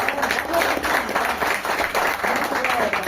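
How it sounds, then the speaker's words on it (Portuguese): A church congregation applauds together in a sustained, steady patter of clapping that fills the whole moment, fairly close and even in loudness, with a few voices mixed in beneath it. "Você pode aplaudir a Jesus aí?"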